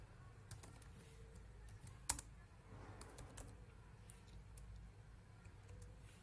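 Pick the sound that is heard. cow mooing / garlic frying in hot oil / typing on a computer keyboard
typing on a computer keyboard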